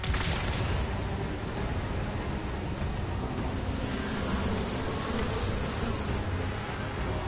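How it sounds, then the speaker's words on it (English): Swarm of bees in the video game Anthem, a dense, continuous buzzing drone mixed with rushing flight noise, loud and unbroken throughout with no speech. "Flying through a swarm of bees."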